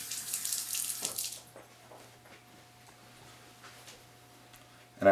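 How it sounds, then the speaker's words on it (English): Tap water runs and splashes loudly over a kokanee fillet in a sink for about a second, then cuts off, leaving faint handling clicks and a low hum before a sudden loud burst at the end. "Then what I do is I rinse my fillet."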